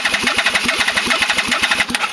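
The starter cranks a rebuilt Yamaha VMAX motorcycle engine, producing a loud, close, rapid chugging rhythm of evenly spaced compression pulses that carry on without the engine firing.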